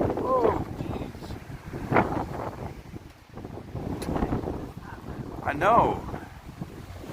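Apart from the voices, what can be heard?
strong wind on the Las Vegas Strip at night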